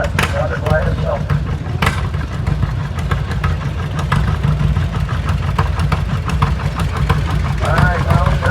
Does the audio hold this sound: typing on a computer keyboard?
no